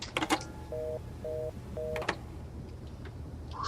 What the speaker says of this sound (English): I'll just call 911 then.